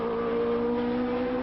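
A 1990 Formula 1 car at Hockenheim shifting into fourth gear during practice, its engine a steady, loud, high-pitched tonal drone held evenly throughout.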